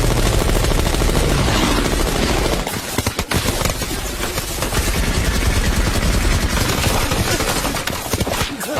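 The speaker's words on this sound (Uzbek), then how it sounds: "Yo'lni pulemyotdan tozalang." Machine-gun fire rattles in dense, rapid bursts, loud and close, mixed with explosions and a droning engine.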